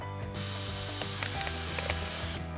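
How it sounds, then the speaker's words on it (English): Small hole being drilled into a plastic bottle with a drill: a close, steady whirring buzz lasting about two seconds, with faint clicks of the bit cutting through, no talk. "So in here, we're going to drill a little hole."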